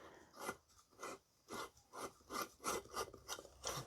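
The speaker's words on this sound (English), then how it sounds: "Screw the bad boy in, as we do, into the fitting." A bulb being screwed into the fitting of a small 40 x 40 cm LED softbox lamp, a series of short scratchy rubbing twists repeating about every half second, close and quiet.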